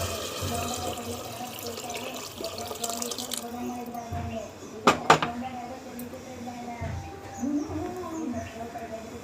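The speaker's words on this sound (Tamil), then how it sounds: "இப்போ இதில் உள்ள தண்ணியை மட்டும் ஊற்றணும்." Soaking water is poured off three glasses of rice in a home kitchen while making ghee rice, a steady splashing trickle under background noise with a few sharp clinks midway and a voice speaking.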